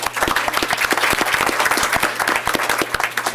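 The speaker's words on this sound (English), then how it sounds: "Let's give him a round of applause, everyone." A school board meeting audience gives a round of applause for an elementary school student leader, close and lively clapping from many hands that carries on steadily for several seconds.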